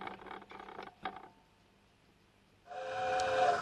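A light railway goods train coasts to a halt at a grist mill siding, with soft rumbling running sounds fading to quiet, then a loud steady hiss or whistle-like release near the end.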